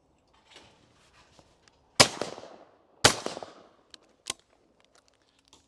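Two sharp, loud shotgun blasts about a second apart at a double of clay targets on an English sporting compact layout, each ringing out into the open air, followed by a fainter third crack.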